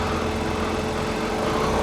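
A motorcycle engine running steadily while riding, giving a constant buzzing drone with wind rush, close and unbroken, with no voices.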